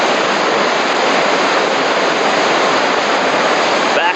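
Whitewater rapids on the Nolichucky River roar as a loud, dense, unbroken rush of churning water, close and steady from start to finish.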